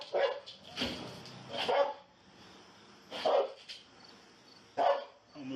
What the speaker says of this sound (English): That dog's gonna bite you if you don't come out.